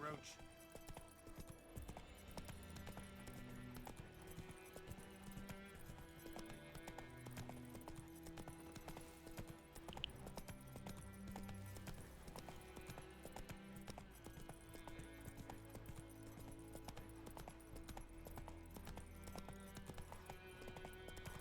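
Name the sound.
horse Roach trotting in a video game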